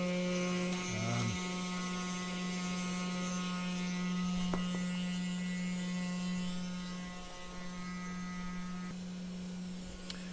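A 3018 CNC router cuts a Scrabble tile on its second pass at about 1 millimetre depth, giving a steady electric motor hum with a faint mechanical whine and occasional small clicks, fairly quiet and constant.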